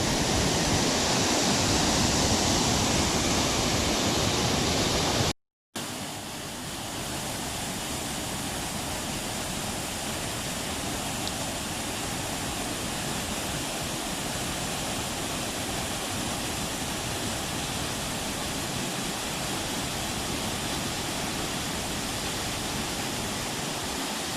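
A three-tiered waterfall on the Wallibou River beside former hot springs roars steadily and loudly from up close, a dense unbroken rush of water with a brief cut partway through.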